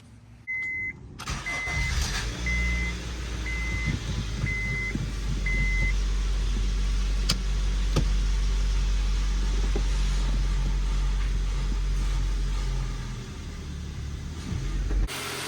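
A Honda Civic with over 400,000 miles starts up after a short run of chime beeps, then settles into a steady, close idle that runs evenly for the rest of the stretch, with no talking.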